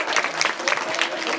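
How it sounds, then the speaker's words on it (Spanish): An audience applauding a dancer after her routine at a dance battle, loud and dense clapping from a close crowd, with voices mixed in underneath. "Un aplauso para ella, por favor."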